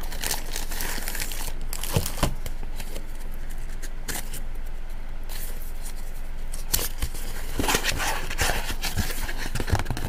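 Sanitary plastic bags from an earthquake readiness pack crinkle and crackle up close, with continuous handling rustle broken by sharper snaps and crunches throughout.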